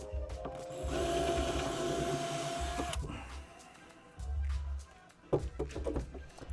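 A power drill bores a small starter hole into a plastic cooler being turned into a PC case, whirring steadily for about two seconds, then stopping and restarting briefly, followed by a few clattering knocks.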